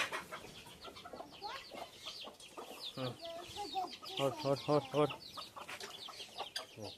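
Guinea fowl cluck and chatter in a rapid, repetitive series of harsh calls, fairly close, with a voice murmuring in the background.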